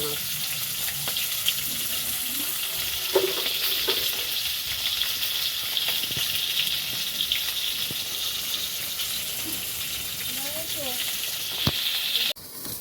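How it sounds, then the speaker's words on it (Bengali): Rohu fish fries in oil with a steady, dense sizzle up close, broken by occasional spatter pops and utensil knocks, while faint voices come and go in the background. "মাছ এটা পোনা মাছ ভাজা হচ্ছে"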